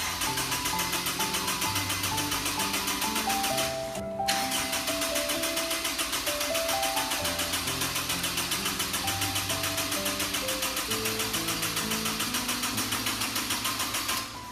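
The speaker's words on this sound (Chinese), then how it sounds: "安装好蓄电池，然后尝试着启动一下，看看能不能启动。" A Honda S2000 engine cranks steadily for over fourteen seconds without catching after parts were replaced, a continuous rhythmic starter churn close by with a brief break partway through.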